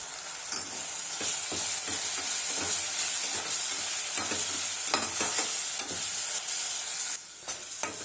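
Spices with chilli powder, green chillies and turmeric fry in a pan for a rice bath, a loud steady hissing sizzle with repeated scraping stirs throughout.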